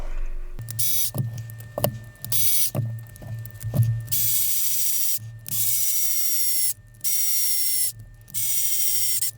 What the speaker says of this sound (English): Then use your 4 12mm screws and seal the case up.